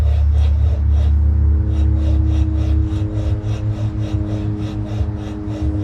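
Minibike flywheel on a 79cc gas bike being lapped by hand, spun back and forth: a continuous close rasping rub with a regular back-and-forth rhythm and a low hum underneath.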